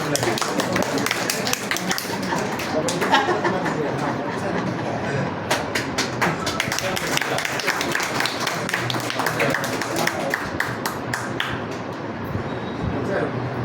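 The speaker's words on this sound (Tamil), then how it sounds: "கைத்தட்டு பத்திலையா" At an award ceremony honouring top students in public exams, a hall audience claps in scattered, uneven bursts of sharp hand claps. The clapping runs under steady talk and room murmur for the whole stretch.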